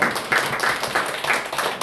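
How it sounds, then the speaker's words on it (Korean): Church congregation clapping during a Lenten Sunday service, a brief, fairly close burst of hands with several distinct rhythmic claps standing out in a loose, lively pattern. "다시 한번 우리 박수하도록 하겠습니다."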